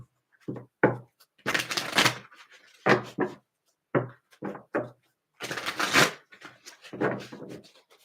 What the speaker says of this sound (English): I want to shuffle these.